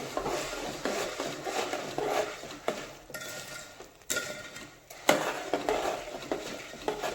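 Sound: mixing boondi for laddu in a pan

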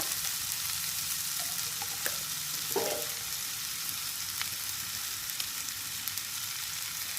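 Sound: ghee poured on hot charcoal for smoking chicken

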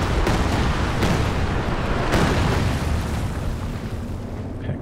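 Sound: Nebelwerfer rocket artillery explosions in Company of Heroes 2 video game

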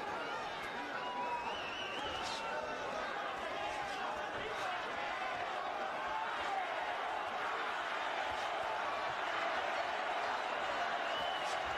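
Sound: boxing crowd cheering for Canelo

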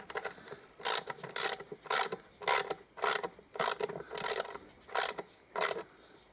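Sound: tightening a bolt on a compressor

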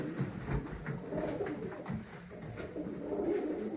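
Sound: Baltacı Paşa pigeon cooing

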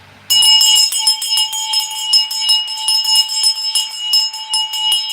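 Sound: small handbell being rung

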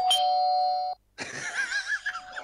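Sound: doorbell ringing

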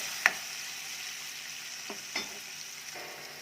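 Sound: onion and tomato frying in a pan

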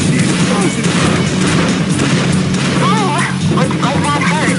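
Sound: explosion in Unreal Tournament 2004 video game

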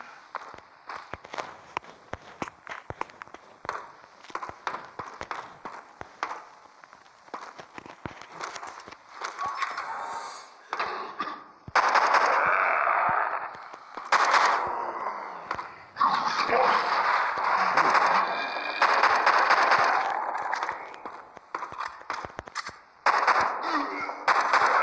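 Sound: gunshots in video game The Walking Zombie 2

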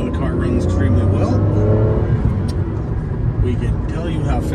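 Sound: 2009 Aston Martin DBS Coupe accelerating on a farm road

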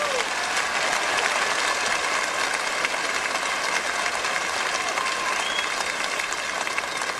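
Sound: audience applause for a gospel singing family

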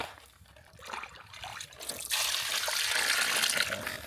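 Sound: hot water poured over chicken to wash it

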